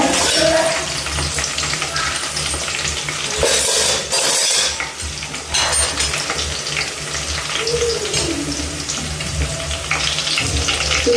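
Garlic frying in oil in a pan for a green chilli stir-fry, a steady broadband sizzle that runs without a break, with a few metallic stirring scrapes. Nobody speaks.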